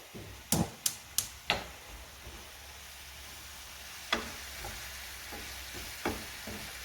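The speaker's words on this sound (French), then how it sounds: "je vais légèrement crémer ma fondue de poireaux" Leek fondue sizzles in a pan as cream goes in, a soft frying hiss under a few sharp clinks of utensil on pan at the start and scattered taps later.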